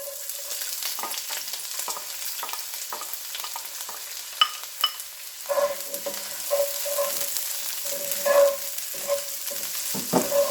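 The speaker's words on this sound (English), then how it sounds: "And I'm going to go ahead and add in my onions." Onions frying in chili-infused olive oil with a steady close sizzle, broken by intermittent stirring scrapes and clinks in the pan.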